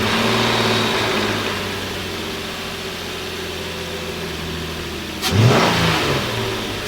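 A Nissan Frontier pickup engine running at a steady idle, close and moderately loud, then a short blip of revving rises sharply before settling back toward idle.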